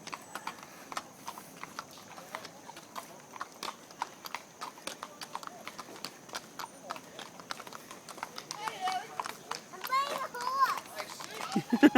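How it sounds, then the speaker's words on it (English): Horse hooves clip-clop steadily as the animal is ridden along, a quiet, even rhythm of hoofbeats with people chatting nearby and a voice mixed in. "I'm riding a horse."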